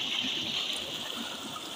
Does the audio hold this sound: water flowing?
yes